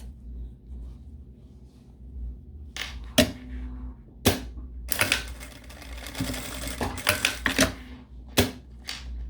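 Sewing machine stitching a zippered fabric accordion wallet, in several short bursts of rapid mechanical stitching separated by pauses, close and fairly loud, with a low hum underneath.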